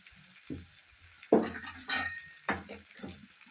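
Chicken with turmeric and salt turned in a pan, irregular clinks and scrapes of a spoon against the metal, some louder knocks, over a faint sizzle, no voices.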